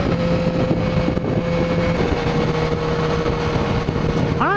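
Loud, steady engine drone with constant wind rush from a 2015 BMW S1000RR motorcycle on throttle at sustained speed, close and unbroken throughout.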